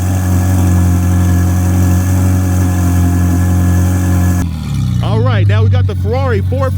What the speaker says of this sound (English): We're going to compare the exhaust noise between this Ferrari 458 and my C8